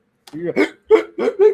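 A single short hiccup from a person, close and loud, followed by a few bursts of laughter in a quiet room.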